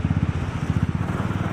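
A Royal Enfield motorcycle engine on the move gives a rapid, loud, close low thump that pulses steadily throughout, with no talking.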